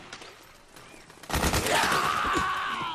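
Combat in Metal Gear Solid 4 starts quiet, then erupts into loud, sustained gunfire with rapid overlapping shots and a rising whine, continuing to the end.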